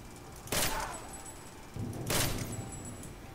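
Two rifle shots ring out in Deus Ex, each a sharp broadband crack with a short ringing tail, spaced about a second and a half apart over quiet background.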